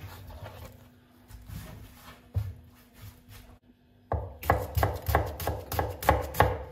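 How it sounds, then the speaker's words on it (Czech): A knife chops through an onion on a cutting board in quick, close, uneven strokes, quieter and sparse at first, then a dense burst of loud rapid cuts toward the end, with no talking. "Nakrájím cibuli, nemusí to být nějak extrémně jemný"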